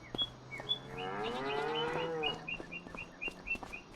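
Cattle lowing in Farming Simulator 25 on a Missouri farm: one long, fairly faint moo over steady ambient background, with repeated short bird chirps running through the scene.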